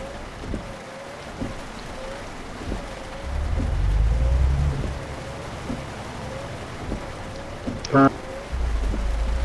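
Steady rain patters over a low truck engine rumble in a truck driving video game, with periodic wiper sweeps and a brief louder rattle near the end.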